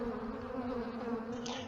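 Dense, steady buzzing of many honeybees at the landing board of a strong hive, a continuous close drone with layered wingbeat tones and no talk.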